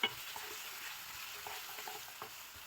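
Garlic paste frying in a pan for palak mutton, stirred steadily: a soft, continuous sizzle with faint scraping clicks, fairly quiet and close, with no voices.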